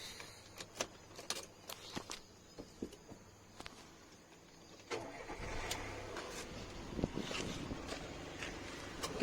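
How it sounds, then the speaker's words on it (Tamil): A 2014 Volkswagen Polo 1.2 MPI is started after a run of faint clicks and key rattles; the engine cranks and catches, then settles into a low, steady idle, quiet and close, with no talking. "இப்போ வண்டி ஆன் பண்ணிட்டு வண்டியோட நாய்ஸ் எப்படி இருக்குது என்னன்றதெல்லாம் பார்த்தலாம்"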